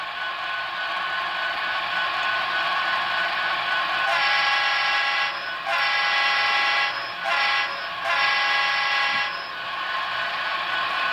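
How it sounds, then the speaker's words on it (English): A grade crossing signal plays from an N scale Broadway Limited SD70ACe locomotive sound decoder: a horn-like tone sounding in repeated blasts with short gaps, over a steady rail rumble, close and fairly loud. "13 is grade crossing signal."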